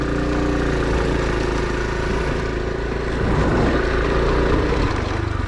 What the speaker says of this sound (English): I'm out on the trails today on the Honda CT, the Honda road legal farm bike